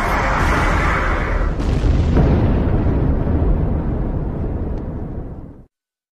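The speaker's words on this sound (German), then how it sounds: "Die eindrucksvolle Explosion schleudert riesige Mengen tödlicher Strahlung ins All." A deep, roaring supernova explosion effect from a space documentary rumbles loudly for over five seconds, then fades and cuts to silence, with no voices over it.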